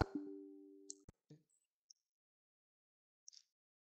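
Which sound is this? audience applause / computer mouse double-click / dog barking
computer mouse double-click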